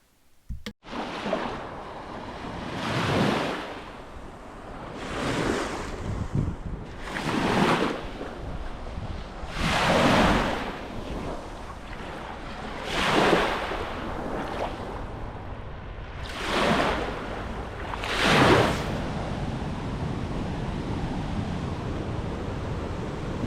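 Waves roll onto a sandy Lake Superior beach, each breaker swelling and crashing in a steady rhythm every few seconds over a constant wash and some wind buffeting the microphone, with no voices.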